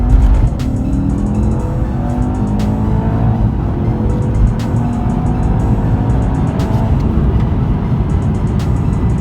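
A 2019 Mercedes E63S 4MATIC accelerating hard on a private road, its engine roaring loudly and continuously from inside the car with rising pitch through gear changes and a few sharp clicks, no talking.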